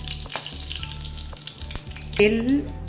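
Mustard oil with turmeric and salt, heating in a pan before fish for shol mach, sizzles steadily and close, with a brief louder spitting crackle near the end.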